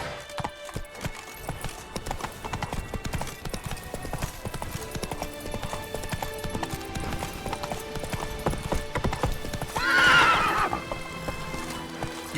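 Horse galloping with steady clip-clop hoofbeats over game music in The Witcher 3, followed by a loud neigh near the end; no talking over it.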